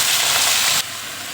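Amaranth greens sizzling hard in a hot pan with garlic, a loud steady frying hiss that drops sharply to a quieter sizzle partway through.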